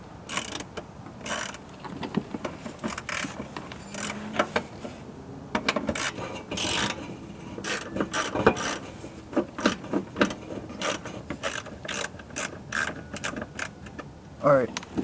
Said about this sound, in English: I'm going to move on to trying to now take off those carrier bearing bolts